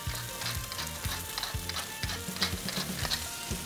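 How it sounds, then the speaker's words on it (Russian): Chicken sizzles and crackles in a hot pan, with rhythmic scraping and tapping as it's stirred. "Ну вот обжариваем курочку."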